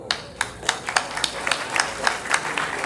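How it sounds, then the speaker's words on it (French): Rhythmic audience applause at a technical college graduation speech, with sharp, evenly spaced claps standing out over a softer sustained wash of clapping, moderately loud and steady throughout. "On applaudit chaudement, s'il vous plaît."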